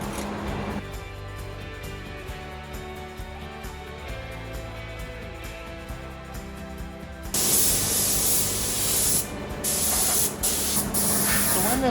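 Loud, steady hiss of a spray gun applying chassis coating to a Land Rover Defender, continuous throughout, intensifying into a harsher, brighter blast in the later seconds with brief pauses.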